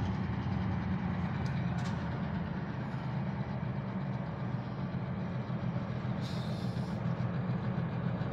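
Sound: Norfolk Southern freight train coming down the hill

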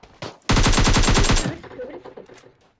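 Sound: pistol gunfire in the video game PUBG Mobile

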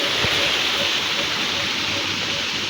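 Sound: water flowing in an irrigation channel

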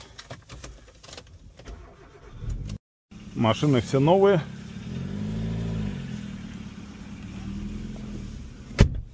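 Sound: Hyundai i20 car started and driven onto car carrier

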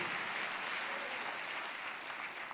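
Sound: church congregation applause

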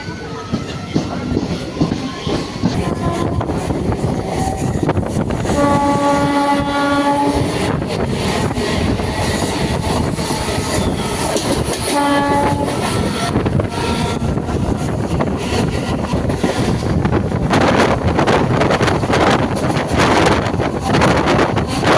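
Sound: local EMU electric train travelling

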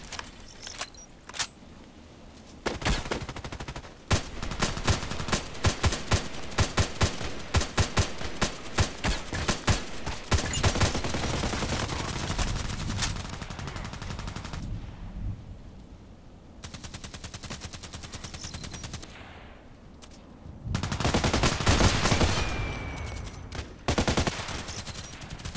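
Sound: HK417 rifle shots in a video game

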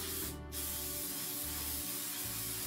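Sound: aerosol spray can spraying

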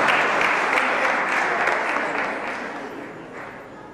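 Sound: audience applause at an awards ceremony

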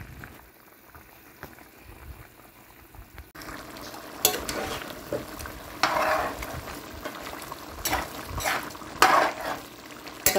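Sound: stirring brown stew chicken in pot

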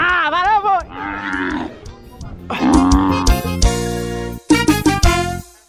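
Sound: cattle mooing on a farm

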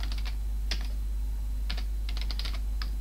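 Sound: typing on a computer keyboard, compose key combinations on Linux

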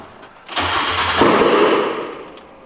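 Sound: Mazda MX5 turbo drift car engine starting

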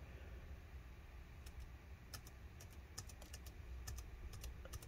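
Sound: pressing keys on Eluktronics MECH-15 G2R laptop keyboard

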